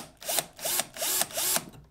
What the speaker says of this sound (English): I grab a drill motor with a 7/32 drill bit